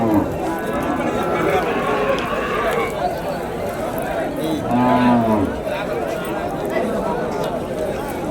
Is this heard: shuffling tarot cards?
no